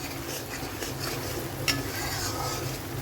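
Chicken masala for biryani being stirred and fried in a pan: a steady close sizzle with light scraping and one sharp clink of utensil on metal, and no talking.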